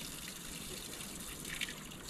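Natural spring water pours steadily into small plastic water bottles outdoors, a soft continuous gush and trickle, fairly quiet with a brief splash near the end.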